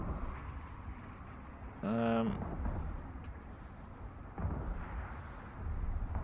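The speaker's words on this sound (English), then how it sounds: "We are going to lock all of these up and start shooting them." Ship weapons fire at locked targets in the space game Eve Online, heavy booming shots and a brief tonal weapon burst under steady background rumble.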